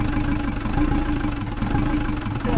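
A Lublin van's diesel engine runs after a valve rocker arm swap, a close, steady low rumble with a knocking, uneven idle throughout, no voices.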